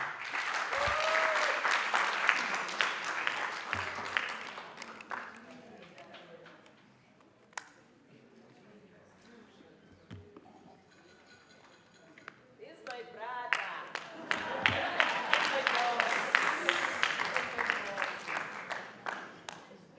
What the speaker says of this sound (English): if we could give a round of applause to Mr. Bikicha